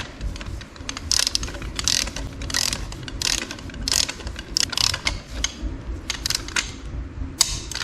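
A torque wrench ratchets while tightening the cylinder head bolts on a rebuilt 6.0 LS engine, giving repeated close, sharp mechanical clicks in a steady, uneven series of strokes.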